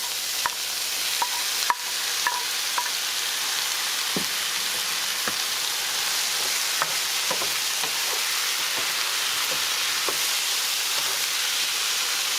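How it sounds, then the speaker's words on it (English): Garlic, onion and tomato frying in a pan with seared chicken for Mexican chicken and rice, a loud continuous sizzle and hiss close up, with scattered clicks of a utensil stirring. "You want to add your garlic. You want to add your onion and your tomato."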